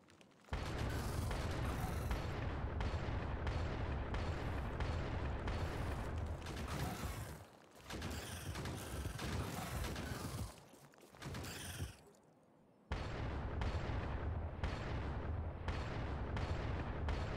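Automated turrets in Factorio with the Krastorio 2 mod fire at attacking biters in a dense, continuous barrage of rapid shots, with brief gaps near the end before firing resumes.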